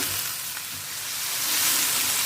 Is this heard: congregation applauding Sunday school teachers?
no